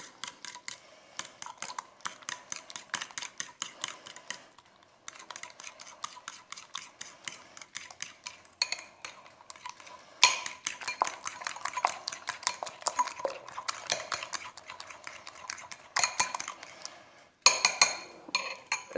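Utensils stir and scrape a mixture in a bowl, producing quick, rhythmic metallic clinks and taps in bursts separated by brief pauses, close and fairly quiet.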